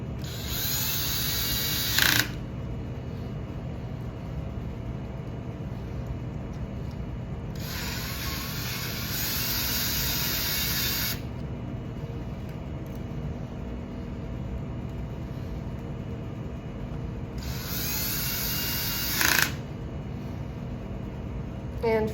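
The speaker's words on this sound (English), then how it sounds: "I'm just going to put a handful of screws in." Power drill driving screws into equilibrium plates of a passive groundwater sampler during assembly, three separate whirring bursts lasting a few seconds each, separated by quieter gaps of low background noise.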